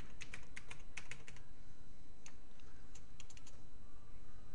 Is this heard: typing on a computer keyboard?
yes